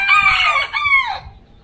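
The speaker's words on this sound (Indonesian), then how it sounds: "Itu ayam kenceng banget suaranya." A loud rooster crows close by, one strained, drawn-out call that rises and trails off, with no voices.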